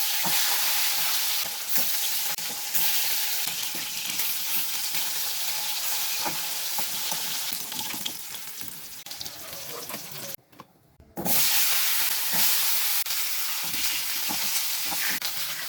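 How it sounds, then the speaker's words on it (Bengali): Dried fish fries in hot mustard oil with a steady, bright sizzle and crackle that runs throughout, broken once by a short near-silent gap before the sizzling resumes at full strength. "এবার আমি মাছগুলিকে গরম তেলে লাল লাল করে ভেজে নেব।"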